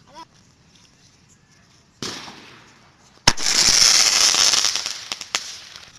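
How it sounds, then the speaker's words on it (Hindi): A crackling sky shot firework: a whooshing launch is followed by a sharp bang and then a long, dense crackling shower of tiny pops that slowly fades. "अब हमारे पास ये क्रैकलिंग वाला स्काई शॉट है"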